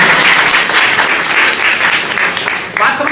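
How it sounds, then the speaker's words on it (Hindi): Loud, dense applause from a seminar audience fills the moment steadily from start to finish, with a brief dip near the end, while a voice talks over it. "एक बार जोरदार ताली बजा दो।"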